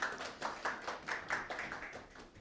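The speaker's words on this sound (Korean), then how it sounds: "박수로 맞이해 주시면 감사하겠습니다" A small audience at a Korean CPA exam information session claps faintly as instructors are welcomed, with a few separate, uneven bursts of hand claps at a distance.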